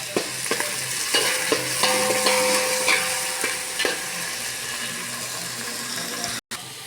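Onions, green chilies and whole spices fry steadily in a pan for amaranth-leaf pulao, with a continuous close sizzle and several sharp clinks of a spoon stirring against the metal.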